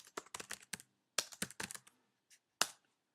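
Keys clatter on a computer keyboard as a chapter heading is typed into an iBooks Author template, with two quick bursts of close, crisp keystrokes, a brief pause, then a few isolated taps and one final sharper key press, no voices present.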